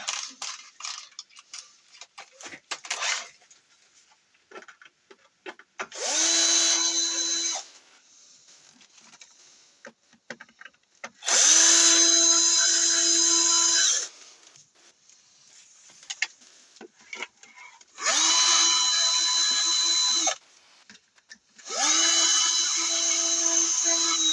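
A small power screwdriver backs screws out of a drone frame. Four separate whirring bursts of a few seconds each are heard close up, with quieter clicking and handling noises between them.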